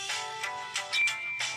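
Opal, a stock ringtone on the Sony Xperia Z, gives a short, soft melodic phrase of synthetic tones with a few airy swells, played alone at modest volume.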